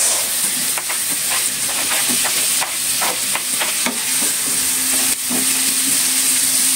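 Garlic and onion fry in a pan with a steady, loud sizzle, broken by repeated scrapes and stirring clatters throughout, with no talking.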